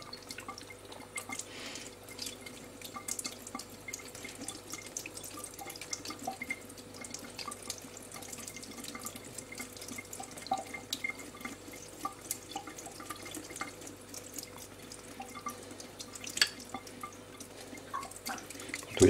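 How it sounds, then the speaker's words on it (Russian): A thin stream of tap water runs over a Japanese natural sharpening stone used for honing a straight razor, a steady faint trickle with scattered drips and no talking. "слегка под струей воды."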